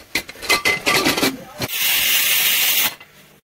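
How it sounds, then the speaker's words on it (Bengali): A pressure cooker boiling flat beans on a kitchen stove lets out a loud, steady steam hiss lasting about a second, preceded by brief clattering bursts and a voice, then cutting off sharply. "আমরা প্রেশার কুকারের মধ্যে দিয়ে দিলাম, এবারে দুটো সিটি দিয়ে নামিয়ে নেব।"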